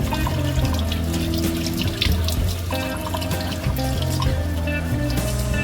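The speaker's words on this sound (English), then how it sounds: "The water is a must, so I have to keep the water running in order to wash out the root" A kitchen tap runs steadily while guinea-hen root is rinsed under it, a loud continuous splash and trickle of water into a sink with faint dripping and clinks.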